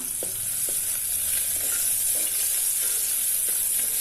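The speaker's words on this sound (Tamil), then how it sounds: "நல்லா கோல்டன் ப்ரௌன் ஆகுற வரைக்கும் நல்லா வதக்கிக்கலாம்" Shallots and crushed garlic sauté in oil in a pressure cooker with a loud, continuous hiss and sizzle, broken by a few light taps of a stirring spoon.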